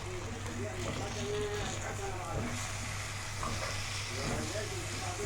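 Rice stir-fried in a hot pan, a continuous crackling sizzle with repeated stirring and scraping strokes, under a low steady hum, fairly quiet and close.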